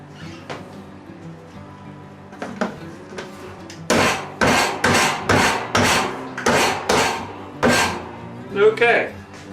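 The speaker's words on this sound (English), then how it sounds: "we're just going to start sanding the lid" Homebrewing a honey brown ale, with a fermenter lid rubbed in a steady series of about eight rhythmic rasping strokes, loud and close, after some quieter handling knocks.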